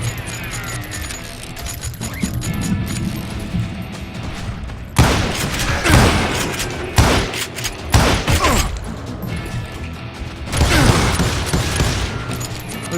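Enemy gunfire in the Western shooter game Call of Juarez Gunslinger, in a graveyard level, comes in several loud, sharp bursts of rapid shots separated by quieter stretches of mechanical game noise.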